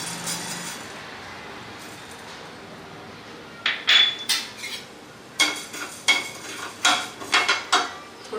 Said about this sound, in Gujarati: ધીમા તાપે આપણે બધા જે દાબેલીના સૂકા મસાલા છે એ આપણે શેકીશું